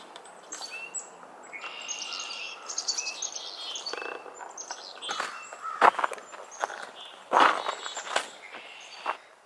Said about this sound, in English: But I got some birds flying around over me right now.